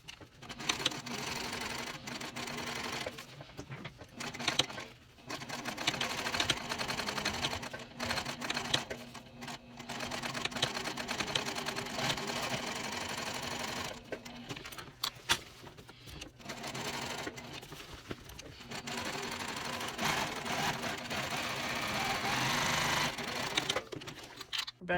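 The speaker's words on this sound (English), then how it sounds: "I'm going to stitch really well across all of this" A sewing machine stitches across a range backpack panel in several bursts of fast, even whirring, stopping briefly between runs, close and clear with no talking.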